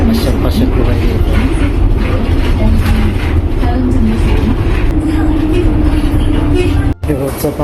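Steady loud rumble of a moving train carriage from inside, a continuous rolling drone with a brief dropout near the end. Speech is faintly mixed in.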